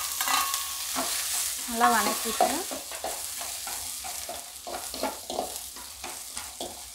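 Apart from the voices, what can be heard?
sliced onions frying and stirred in hot oil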